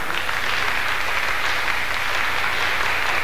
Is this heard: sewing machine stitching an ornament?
no